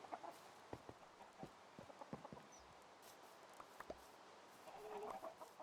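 Chickens cluck in a blocky Minecraft farm pen, several short scattered clucks rising now and then over a soft steady game backdrop, with a slightly busier burst of clucking toward the end.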